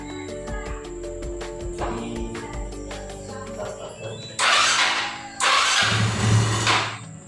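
A Yamaha Xeon scooter with an idle fault that stalls without throttle is started, giving two loud bursts of starter and engine noise after someone speaks over a quieter mechanical background.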